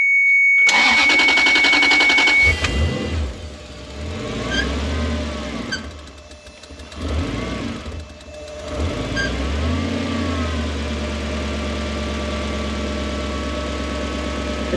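A 1UZ-FE V8 swapped into a Toyota Hiace van with a manual gearbox and Link ECU cranks over and fires, settling into a loud, uneven, rough idle up close.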